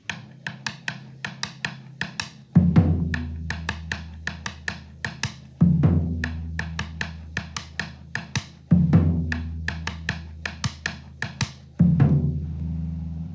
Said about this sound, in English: And the first one is going to be the tambora.